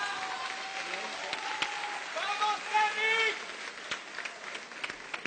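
An audience at a debate competition claps in a brief, moderate burst of applause heard from a distance, with a few louder claps and some crowd noise mixed in.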